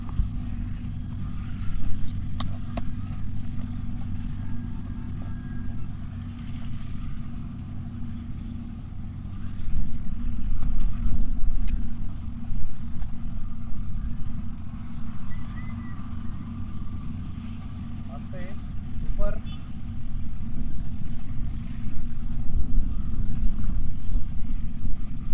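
A Hero Xtreme 125R motorcycle engine runs steadily close by, a continuous low hum that rises slightly partway through and holds.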